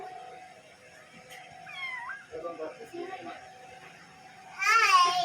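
A cat meows a few times nearby, with a louder drawn-out meow near the end, amid quiet room sounds.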